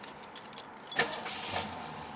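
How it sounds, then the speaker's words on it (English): Close keys jangling and clicking against an ignition as someone starts a 1978 Mercury Grand Marquis, the metallic rattle settling into a low engine catch and rumble after about a second, with no talking. "Starting the car is very easy."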